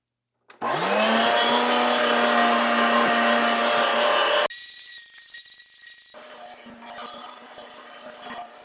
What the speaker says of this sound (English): Let's feed a little bit through for a second grind and see how it looks.